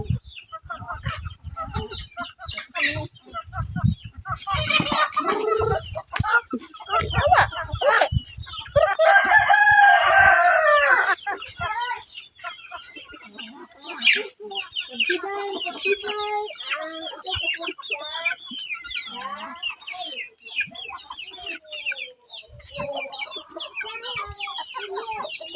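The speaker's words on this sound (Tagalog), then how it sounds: "Namawag na siya sa manok" Chickens cluck repeatedly and a rooster crows loudly near the middle on a farm, with scattered bursts of other farmyard noise and faint voices underneath.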